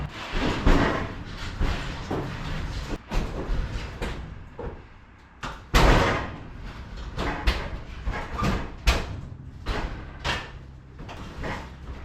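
Kitchen appliances being wrestled out through a back door in an abandoned house under renovation: repeated loud thumps, bangs and scraping, irregular and close, with several sharp impacts over about twelve seconds and no talk.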